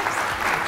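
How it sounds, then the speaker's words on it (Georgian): Applause for a public school team in a televised school quiz, a dense, steady wash of many hands clapping in a studio audience, loud and without talk. "აპლოდისმენტები კიდევ ერთხელ 123 საჯარო სკოლას."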